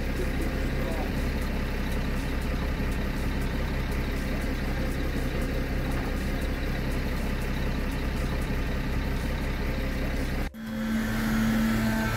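A concrete truck's engine idles at an ICF stem wall foundation construction site, a loud, steady low rumble that runs on unbroken before briefly dropping out near the end, where a faint steady tone follows.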